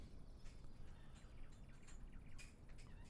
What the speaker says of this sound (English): You should hear some birdies tweeting.